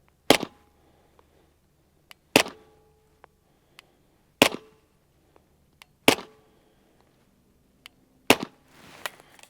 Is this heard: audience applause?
no